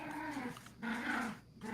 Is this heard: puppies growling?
yes